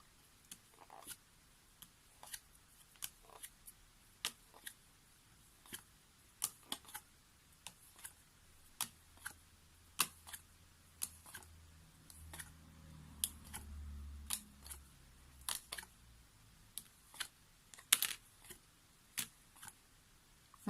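Tarot cards are cut and handled up close, giving a sparse series of crisp ticks, snaps and clicks at irregular intervals against a quiet background.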